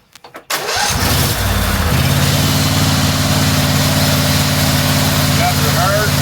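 SST 16 riding mower engine starting after a few brief clicks, then running steadily close by in reverse with a constant mid-pitched drone and a faint high whine.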